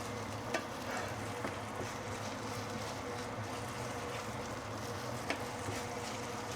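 Ginger sautéing in a claypot over medium-low heat while being stirred: a soft, steady sizzle and hiss with a few faint scraping clicks from stirring, quiet and close.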